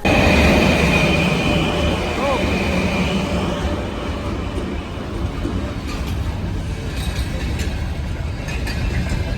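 A long-distance train on the Arctic Murmansk–Saint Petersburg line arrives at a snowy station, a loud continuous rumble of rolling cars with faint wheel squeal, fading slightly as it slows.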